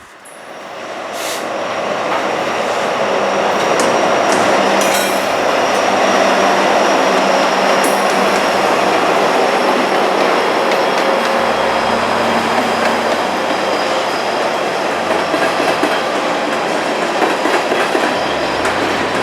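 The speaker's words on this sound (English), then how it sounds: "the northbound empty counterpart of that coal train that we have first seen came on by" A long, empty northbound coal freight train rumbles past close by, a steady loud roar with rhythmic clatter of wheels and occasional squeals.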